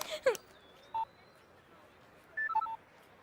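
A telephone is dialed: a few short, clear keypad tones at moderate level, one early and a quick cluster near the end, over a quiet room with a brief rustle at the start.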